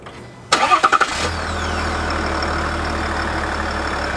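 A 2021 Cadillac Escalade diesel engine cranks with a quick series of starter chugs, catches, and settles into a steady, clattering idle, close and loud.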